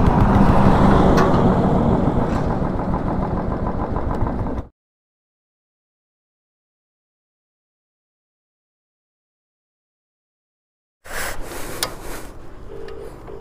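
A Royal Enfield Classic 350 motorcycle ridden after an accident, with bent handlebars and a jammed rear disc brake; a loud, steady engine and road rumble runs for several seconds, drops into a long silence, then returns.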